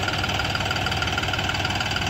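A John Deere 5210 or Farmtrac 60 tractor engine runs with a steady, close, even diesel rumble and no noticeable change in speed.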